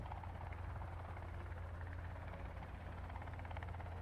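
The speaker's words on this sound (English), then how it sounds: "starting off in the helicopter." Helicopter in the video game Sons of the Forest, a steady loud rotor drone with a deep low thrum throughout, no speech.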